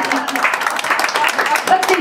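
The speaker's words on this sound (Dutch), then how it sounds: "als je voor Messen klapt, mag je ook voor Michiel" An audience claps for choir conductor Michiel at a summer event, steady applause throughout, with voices talking over it.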